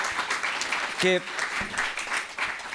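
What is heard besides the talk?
audience applause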